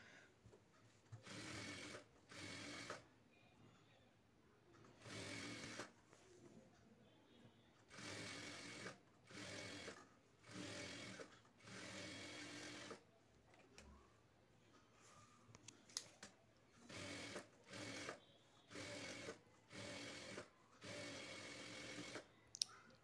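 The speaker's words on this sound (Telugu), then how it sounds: "ఒక స్క్వేర్ షేప్ లో ఒక స్టిచ్ చేసుకోవాలండి" A sewing machine stitches old nighty cloth into a doormat, running in repeated short bursts with pauses between them and sounding close and steady, with a faint voice in the background.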